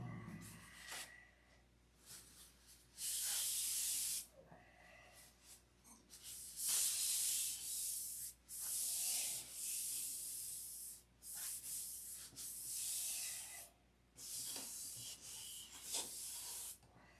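Someone hand-sands a surface during a finish sanding job, with long rasping strokes in bursts of a second or two, separated by short quiet pauses, close and fairly soft.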